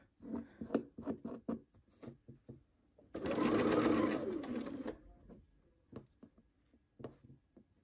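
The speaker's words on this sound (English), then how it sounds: "I'll give that seam just a little more" A sewing machine runs a short burst of about two seconds along a quilt seam, between scattered soft clicks and fabric handling that come before and after.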